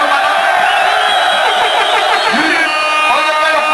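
Dense crowd noise from a live audience at a concert inside La Victoria prison, loud and continuous with cheering and whooping over a steady roar, with no clear individual claps standing out.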